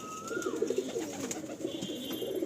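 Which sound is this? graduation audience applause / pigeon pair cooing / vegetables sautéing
pigeon pair cooing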